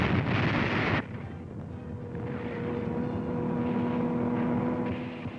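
A German Stuka dive bomber in a WWII North Africa newsreel, a loud roaring engine drone that cuts sharply after a second, then a sustained rumbling aircraft hum with a steady tone, no speech.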